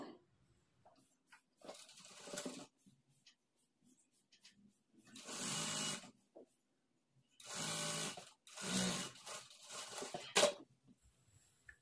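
A sewing machine stitches a double-folded fabric edge on Punjabi dress pants, running in several loud bursts of whirring with short pauses between runs.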